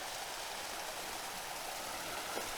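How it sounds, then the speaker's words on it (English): Small waterfall on a tiny trout creek with blackberries and hawthorn bushes, giving a steady, even rush of splashing water that stays constant and fairly close throughout, with no voices. "This is the waterfall."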